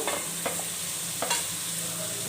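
Masala sizzles steadily while frying in a pan for a raw prawn and gongura curry, with a couple of brief scraping stirs breaking through the constant close crackle. No one speaks.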